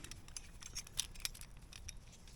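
A small ratchet on a crawl space dehumidifier hanging strap gives quiet, quick clicks, a handful of sharp ticks in uneven rhythm close by. No one speaks.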